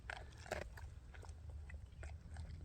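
Stray dogs living in a forest lap water, giving soft, irregular wet slurps and mouth sounds close by, faint over a low background hum.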